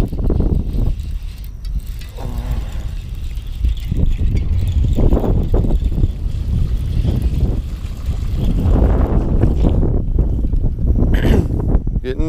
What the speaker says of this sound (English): Hopefully this audio is not too terrible with this wind